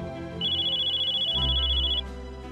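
A phone rings with a steady, continuous electronic tone over a low game soundtrack, signalling a call from home in the Code Geass video game.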